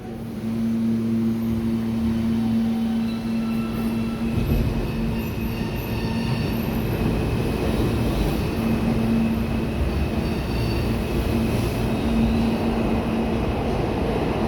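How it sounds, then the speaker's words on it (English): A New York City R160 subway train on the R line rumbles steadily along the tracks, wheels squealing with high sustained tones over the continuous roar. "R160 R train."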